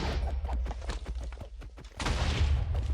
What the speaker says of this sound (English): Oh, there's so many explosions.